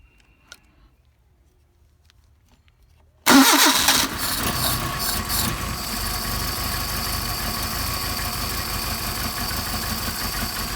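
A Mercedes 190SL engine fitted with Solex carburetors cranks and fires after about three seconds of near silence, catching abruptly and settling into a loud, steady idle close by.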